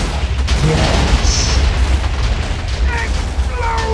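Explosion in a Minecraft-style video game, a loud, dense booming rumble lasting several seconds with crackling debris sounds over it, up close and dominant, with a voice faintly present.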